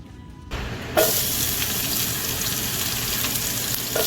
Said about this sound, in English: Finish frying up all your French fries.